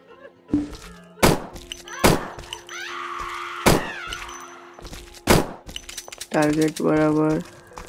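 Gunfire and weapon handling in the horror game Endless Nightmare: several sharp, isolated bangs spaced a second or so apart, with clanks and thuds between them and a drawn-out wailing moan near the end.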